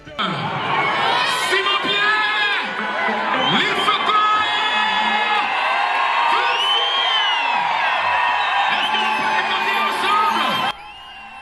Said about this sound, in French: Très applaudi par le public à sa montée sur le podium